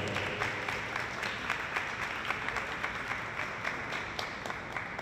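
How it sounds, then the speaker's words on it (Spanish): An audience applauds at an Ecuadorian flag raising ceremony, a steady wash of many hands clapping at moderate volume that continues evenly from start to finish with no speech. "Por favor, un aplauso."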